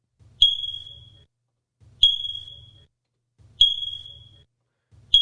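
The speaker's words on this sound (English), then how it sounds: "It's actually just a chirping smoke detector" A smoke detector chirps at regular intervals, four sharp high beeps about one and a half seconds apart, each with a faint low hum, loud and isolated against silence.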